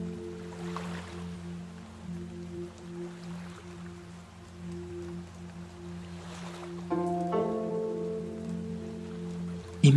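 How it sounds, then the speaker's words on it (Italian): Steady rain mixed with rolling ocean waves forms a soft, continuous wash, with a low sustained tonal drone underneath that shifts and brightens near the end. "il suono della pioggia."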